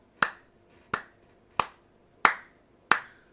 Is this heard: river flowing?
no